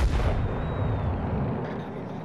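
A heavy naval gun shot in a video game, a deep loud boom with a long rumbling tail that slowly fades.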